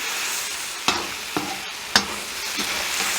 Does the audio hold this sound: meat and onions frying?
yes